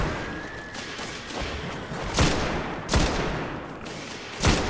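Enemy gunfire in the video game Destiny: a rapid fusillade of shots, with several loud bursts standing out against a busy battle background and no talking.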